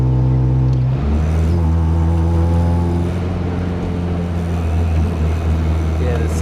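A car engine drones steadily at full throttle while climbing a freeway hill, with a deep sustained hum and a pitch that shifts once early on, loud and continuous under a talking voice.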